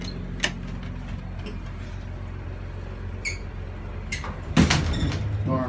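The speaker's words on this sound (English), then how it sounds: "Door still slams." A Montgomery hydraulic elevator door at a high school slides along its track with mechanical clicks and rattles under a constant fan hum, then shuts with a loud, close slam near the end.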